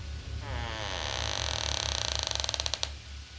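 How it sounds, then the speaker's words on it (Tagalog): A wooden door creaks open slowly in a quiet house, one drawn-out rising groan that breaks into rapid ticking creaks before stopping, close and alone. "Umingit ang kahoy habang bumukas ang pinto."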